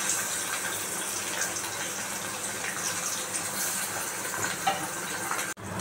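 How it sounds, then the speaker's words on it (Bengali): Chhana cubes coated with turmeric and salt fry in hot oil, a steady, dense sizzling hiss running throughout, broad and close, with a few faint clicks near the end. "সুন্দর মতো ভেজে নেওয়া হচ্ছে"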